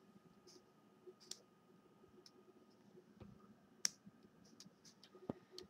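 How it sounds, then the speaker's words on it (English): Small crisp clicks from the 3D slider on a blue Nintendo 3DS XL, several faint separate snaps spaced irregularly over a quiet background. "the 3D slider is a very audible click"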